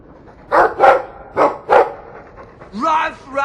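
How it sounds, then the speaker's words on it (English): A dog barks several times in Dragon Age 2, sharp yaps spaced irregularly at close range, followed by a short whimpering tone at the end. "I like the doggy."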